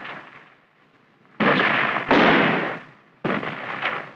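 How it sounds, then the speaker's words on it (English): Small arms and mortar fire in an archival military documentary: three loud, harsh bursts of noise, each sustained about a second and separated by short gaps, with no voices. "It was quickly met with small arms and mortar fire."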